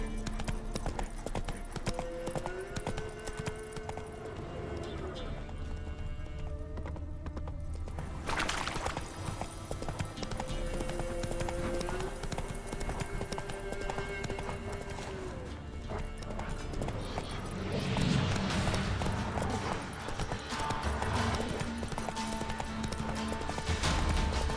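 Hooves pound steadily as a horse gallops in The Witcher 3, a fast continuous clip-clop over sustained game music.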